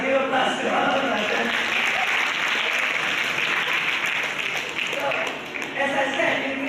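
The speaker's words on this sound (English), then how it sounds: "Give a applause to all of us." An audience at a public university lecture on democratic deconsolidation applauds in sustained, dense clapping that stays loud and even throughout.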